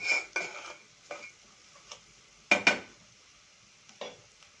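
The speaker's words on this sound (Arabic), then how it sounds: "نقلب عشان ريحه البهار كده تطلع وتتحمص كلها مع البصلايه" Onion and spices are stirred in a pan, with several separate scraping strokes and light utensil knocks against metal over a faint, quiet background.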